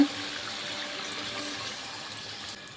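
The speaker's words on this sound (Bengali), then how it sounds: "দিয়ে একটু নেড়ে চেড়ে ঝোল দিয়ে দেবো।" Broth poured into a pan of vetki (barramundi) fish-bone chorchori, a steady watery pouring and splashing that runs evenly for almost three seconds before tapering off at the end.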